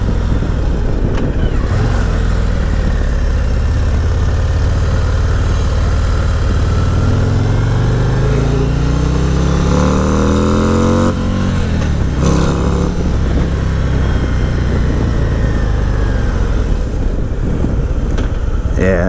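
A Harley-Davidson Road Glide ST motorcycle riding on the road, a loud, continuous engine drone with wind rush, rising and falling as the rider shifts and accelerates, with a voice talking over it.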